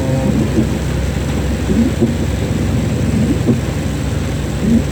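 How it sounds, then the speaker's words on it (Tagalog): Nonstop heavy rain lashed by strong typhoon wind, a dense, steady roar with rumbling low gusts swelling and easing throughout, loud and close, with no voices. "may kasamang lakas ng hangin yung pagyo ngayon walang tigil yung ulan kasamang hangin"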